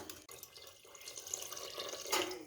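Water is poured into a pressure cooker holding washed kabuli chana (chickpeas), a short, fairly quiet splashing trickle that swells toward the end.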